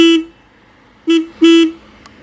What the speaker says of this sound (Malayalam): ഇതിൻ്റെ ഹോൺ ഞാൻ കേൾപ്പിച്ചു തരട്ടെ.